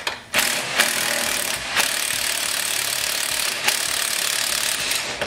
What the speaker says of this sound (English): Now we're going to go ahead and take these 4 bolts loose, because we're going to kind of drop the trans a little bit.